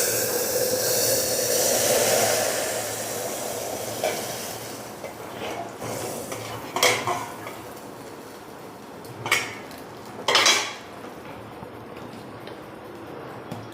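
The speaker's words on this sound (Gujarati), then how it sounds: "હવે હિંગ નાખીશું ગેસની આંચ એ બંધ કરી દઈશું વઘારિયાવાળી અને અહીંયા વઘાર કરીશું" Asafoetida hitting hot oil in a small tempering pan over a gas flame just switched off: a soft continuous hiss and sizzle, with a few sharp bursts and light metal clinks of utensils. No one speaks.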